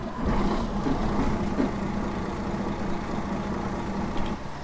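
A simulated city bus engine in the OMSI 2 driving game, its steady low diesel rumble idling continuously and fairly loud with no talk over it.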